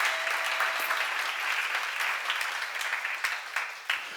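Worshippers at a church seminar clap in steady, dense applause, close and loud, with a few sharper individual claps standing out as the round begins to thin near the end.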